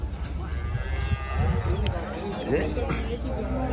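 Several cows low loudly at a cattle market in Pileru, long drawn moos rising over a steady hum of crowd chatter and background noise.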